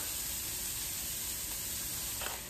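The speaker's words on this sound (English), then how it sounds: "So while my onions and celery are sauteing up" Onions and celery sautéing in a pan for stuffed peppers give a steady, close sizzling hiss that runs unbroken throughout with no talking.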